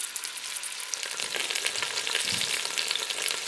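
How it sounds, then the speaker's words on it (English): Chicken pieces fry in a couple of tablespoons of olive oil in a pan for a French chicken casserole, giving a steady close crackling sizzle with a brief stir partway through and no talk. "now it's time to start frying off our chicken"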